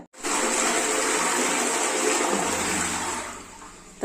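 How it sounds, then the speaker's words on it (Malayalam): A household toilet flushing close by: a sudden loud rush of water that holds steady for about three seconds, then tapers into a gentler refilling trickle, with no talking. "അതിന് ശേഷം നമുക്കൊന്ന് ഫ്ലഷ് കൂടെ അടിക്കാം"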